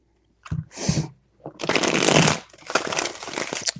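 A deck of tarot cards is shuffled three times, each pass a crisp, close riffling burst of paper flutter, the last two longer and fuller, with short pauses between.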